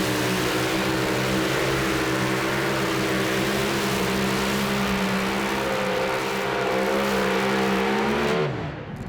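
The engine of the mini rod pulling tractor Have No Mercy roars loud and close at a raceway pull. It holds a steady, heavy drone with layered harmonic whine, then cuts off abruptly near the end.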